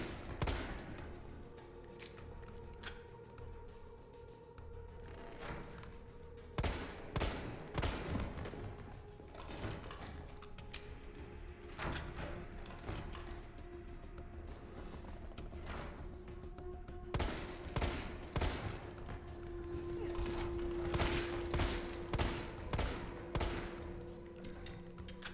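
Rapid gunfire in the Resident Evil 3 remake on Nightmare mode: repeated bursts of sharp shots, dense clusters of fire with brief pauses, loud against a low game ambience, with a tonal hum toward the end.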